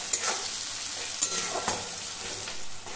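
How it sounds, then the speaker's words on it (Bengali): Onions and three green chillies frying together in a pan, a steady close sizzle broken by a few sharp scraping stirs of a spatula. "3খানা কাঁচা লঙ্কাও দিয়ে দেবো, একসাথে পেঁয়াজের সাথে ভেজে নিতে হবে।"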